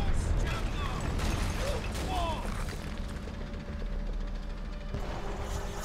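Clanking, grinding mechanical rumble of a tank in the World War II shooter Call of Duty: World at War, steady and heavy under battle noise and distant shots.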